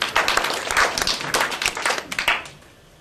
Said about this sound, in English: Brandy, give him a round of applause.